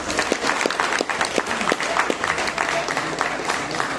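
Spectators applaud the winners of a kayak cross sprint race at the Mechukha kayaking challenge, a sustained round of clapping with sharp individual claps standing out over the crowd.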